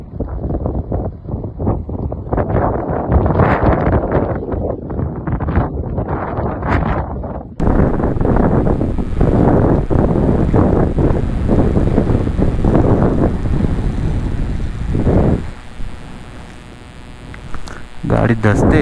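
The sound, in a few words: strong desert wind blowing sand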